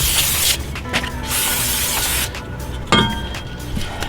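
Cleaner is sprayed onto a new rear brake rotor for a 2012 Acura TSX in a series of close, hissing aerosol bursts separated by short pauses and faint clinks.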